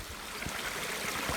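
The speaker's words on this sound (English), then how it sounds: "Oh no, it's not far. I hear water." Strong spring water rushing steadily from a rocky mountainside along a hiking trail, a continuous broadband splashing gush heard close and loud with no talking.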